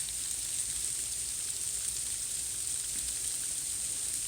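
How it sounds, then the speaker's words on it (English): Steady rain falls outdoors at night during an ice storm, a dense, even hiss like fine drops pattering on surfaces, continuous and moderately loud with no voices. "it's making that raining sound again."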